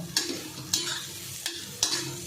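Roasted green chillies being sautéed in oil over medium heat for a methi thecha, with a soft continuous sizzle broken by four sharp spoon scrapes against the pan at a steady, unhurried pace.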